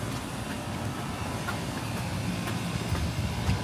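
A Paris metro subway train on line 2 rumbles steadily, a continuous low roar with faint rhythmic clacks and rattles throughout, close and loud, with no talking.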